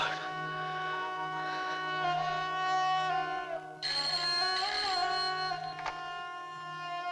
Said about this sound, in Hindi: किसका फोन है रश्मि?